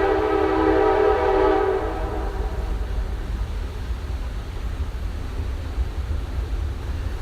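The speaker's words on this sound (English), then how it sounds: "There's your train that wasn't present the first few times." A passing train sounds a loud, sustained horn blast for about two seconds, then its rumble continues steadily close by under broadband rail noise.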